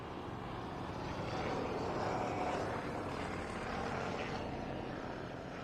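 A Shuttleworth Collection Bristol Fighter biplane with a 275-horsepower engine flies past at an airshow, its engine drone steady and moderately distant, swelling slightly mid-pass before easing, with no talk.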